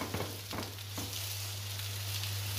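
Rib-eye steak and onions fry in red chili oil in a griddle pan, giving a constant crackling sizzle with a few scraping stirs early on, over a low steady hum and without talk.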